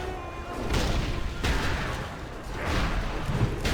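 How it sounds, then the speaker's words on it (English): A rebel cannon in World of Warcraft booms repeatedly, launching cannonballs with heavy, rumbling blasts that overlap into a dense, continuous barrage, loud and near. "Rebel cannon shoots a powerful cannonball at the enemy"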